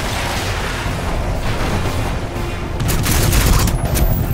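A rocket launcher fires in the shooter game Crysis 2, a loud booming blast with dense rumbling explosion noise that swells toward the end.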